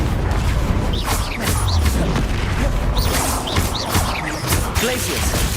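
Confringo, the explosive spell blast in Hogwarts Legacy, heard as a dense, loud stretch of booming, crackling impacts and swooshing magic effects with no break in the noise.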